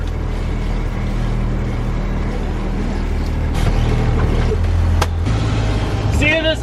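A bus engine rumbles low and steady as the vehicle pulls away after the parking brake is released, with a brief air hiss and rising mechanical whine near the end.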